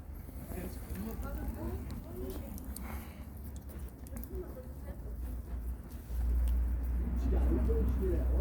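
Domestic pigeons coo softly and repeatedly from close by in a loft, with a steady low rumble building toward the end and faint background noise.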